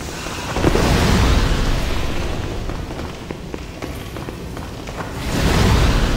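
Exploding barrels in Demon's Souls, Stonefang Tunnel: a loud, dense burst of booming rumble that swells in at the start, fades through the middle and surges again near the end, with no talk.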